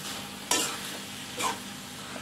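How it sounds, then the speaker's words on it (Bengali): Borboti (yardlong) beans cooking with shrimp are stirred in a frying pan, two distinct scraping stirs over a low, steady sizzle, close and fairly quiet, with no talking. "একটু নাড়াচাড়া করে দিব।"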